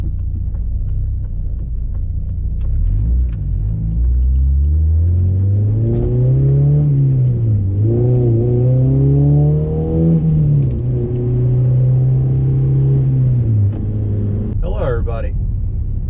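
An 8th-generation Honda Civic Si with a swapped K24A engine revs steadily under load, its pitch climbing and wavering as it pulls hard, loud and close for a long stretch.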